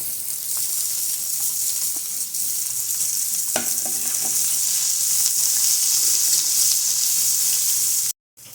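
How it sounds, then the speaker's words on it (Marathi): Finely chopped onion frying in a pan for fenugreek bhaji, a steady close sizzle with occasional stirring scrapes and crackles running throughout, cutting off briefly near the end. "त्याच्यानंतर आपण टाकणार आहोत एक कापलेला कांदा, बारीक चिरून घेतला आहे मी तो."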